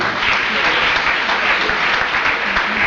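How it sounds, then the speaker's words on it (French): A church congregation applauding to acclaim the Lord, a loud, dense, continuous wash of clapping from a large crowd with no gaps. "Est-ce qu'on peut acclamer le Seigneur pour cela?"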